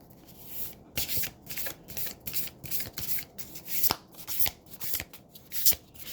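Oracle cards are shuffled by hand in short rustling bursts, with a sharp riffle or snap every second or so, close and fairly quiet, with no talking.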